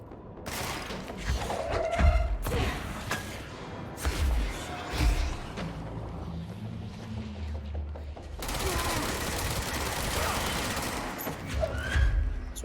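Rocket and weapon fire in the action game Control, a string of loud booming blasts and thuds with a rattling gunfire texture and lingering explosive rumble, some bursts overlapping.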